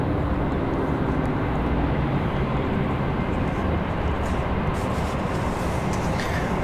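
A Republic Airways jet departs from Raleigh-Durham International Airport, its engines giving a loud, sustained roar that stays steady throughout, with no voices.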